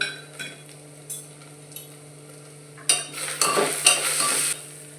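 Goda masala, kitchen king masala, turmeric and coriander powder sautéing in a pan for Maharashtrian rajma masala rice, with soft scraping stirs early, then louder bursts of sizzling and spoon scrapes building toward the end.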